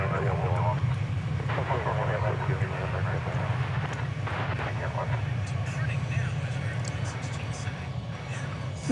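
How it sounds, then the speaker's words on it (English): An American Airlines Airbus A320 departs DFW, its jet engines a low, distant rumble running steadily beneath wind noise on the microphone. "Departing now is American Flight 1671 to Panama City, Florida. It's an Airbus A320."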